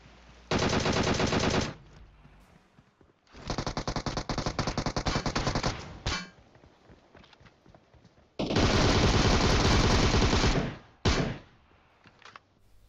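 Long bursts of rapid automatic fire from a UMP submachine gun in PUBG Mobile, three loud sustained sprays separated by brief pauses with scattered single clacks between them, no voices.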